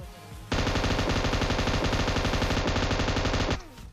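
Sustained automatic gunfire from PUBG Mobile rattles loud and rapid for about three seconds as one continuous burst, cutting off abruptly into quiet game ambience.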